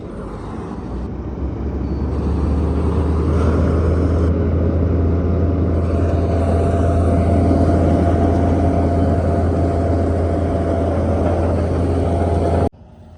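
A tractor or similar farm machine engine starts and settles into a loud, steady, low rumbling idle that holds for several seconds before cutting off abruptly.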